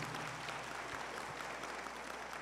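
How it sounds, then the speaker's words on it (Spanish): Audience applause at a public accountability event in a hall, a dense, even wash of clapping heard from a distance at low level, sustained without talk. "un aplauso fuerte, por favor, para nuestros consejeros"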